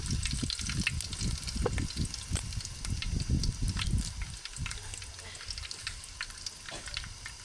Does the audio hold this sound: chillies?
yes